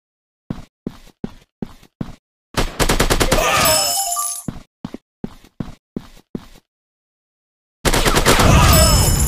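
Rapid gunfire from a shooting video game, starting as a run of sharp single shots, then a sustained automatic burst, more single shots, and a final loud burst, all close and prominent.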